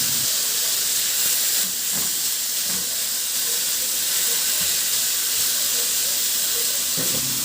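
Ground pork fries in a pan with a steady, loud hiss of sizzling fat that runs unbroken from start to finish, with a few faint clinks beneath it.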